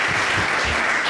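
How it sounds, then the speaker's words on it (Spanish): Audience applause at the close of a talk, a dense, steady wash of many hands clapping throughout the short stretch, loud and alone. "Primero un aplauso"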